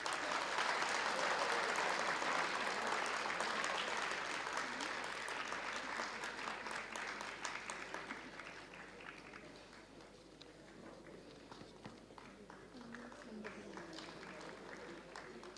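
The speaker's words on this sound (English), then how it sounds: "Clapping should not stop." Many hands clapping at a university degree award ceremony, loud and dense at first, then thinning and fading after several seconds into scattered lighter claps with faint background murmur.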